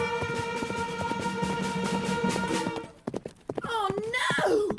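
Horses gallop in a radio play, a steady run of hoofbeats that stops abruptly and gives way to neighing and whinnying, with voices nearby.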